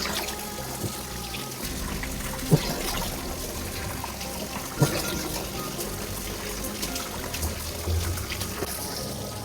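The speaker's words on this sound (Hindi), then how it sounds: "मैं सिर्फ एक जगह का पानी भर के दिखाता हूँ" Water from a leaking pipe trickles and splashes steadily into a 500 ml bottle outdoors, a continuous rushing dribble with a couple of brief clunks.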